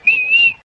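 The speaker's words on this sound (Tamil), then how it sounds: "இப்ப எதுக்கடி அக்கா விசில் அடிச்சு கூப்பிட்டா?" A person gives one clear, steady whistle to call someone, a single loud close note lasting about half a second before cutting off.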